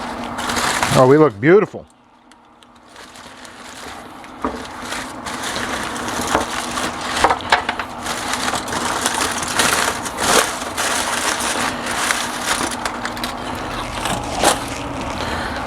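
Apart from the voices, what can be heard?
unwrapping smoked ribs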